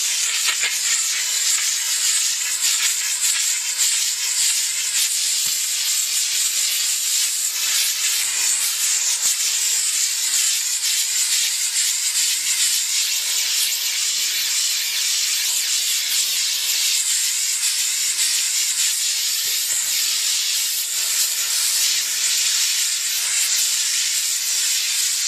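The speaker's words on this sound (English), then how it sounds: "we're just going to squeeze the trigger. And we'll just get rid of some residual steam" A JNX-3000 car interior steam cleaner releases a steady, loud hiss of steam onto a car seat, continuous and unbroken throughout with no talking.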